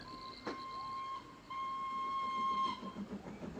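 A steam train in a 1957 war film rolls past close by, a sustained steady whistle tone sounding over continuous rumbling wheels and rail noise, with a brief sharp clank near the start and no talking.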